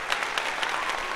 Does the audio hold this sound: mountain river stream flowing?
no